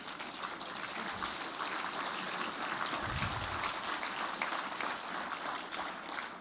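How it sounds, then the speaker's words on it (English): Broad, steady roar of a crowd clapping at a banquet, dense and continuous throughout without a break. "Give them a big round of applause."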